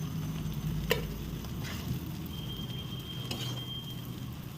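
Shrimp frying in oil in a wok for Bengali lau chingri gives a steady, moderate sizzle with a few sharp taps of stirring, close and alone.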